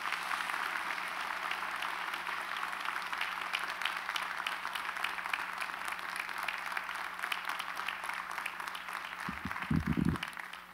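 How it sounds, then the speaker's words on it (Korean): Congregation at a Korean church Sunday service gives a sustained round of loud applause that holds steady throughout, with a few louder claps near the end and no talking over it. "할렐루야 큰 박수로 맞이해 주시기 바랍니다"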